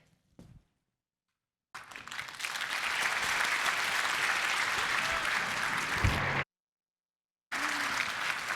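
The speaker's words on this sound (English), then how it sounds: "Let's give her another round of applause." Audience at an evening gala applauds steadily, a broad, even wash of clapping that starts after a brief pause, continues for several seconds, drops out abruptly, then resumes.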